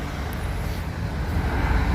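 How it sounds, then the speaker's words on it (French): Background rumble at a truck parking lot, a faint, steady wash of low traffic and engine noise with no distinct events. "Vu qu'il y a du bruit, on est sur un parking de camion."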